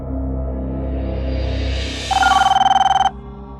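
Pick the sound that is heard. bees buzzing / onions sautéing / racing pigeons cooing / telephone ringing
telephone ringing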